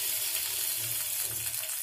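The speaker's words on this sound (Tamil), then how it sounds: "ஆயில் சூடானதும் நம்ம எடுத்து வச்சிருக்கிற வெண்டைக்காவை போட்டு ஃப்ரை பண்ணிடலாம்" Okra frying in hot oil in a pan gives a dense, steady, close sizzle with a soft bubbling undertone that holds evenly throughout.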